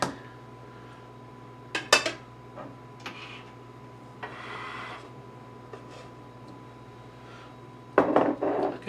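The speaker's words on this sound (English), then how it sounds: "there's the mushrooms all cut up, all 8 ounces" A knife chops mushrooms on a cutting board in a home kitchen, with scattered sharp taps and a quick cluster of cuts near the end, plus a brief scraping pass in between, against a quiet background hum.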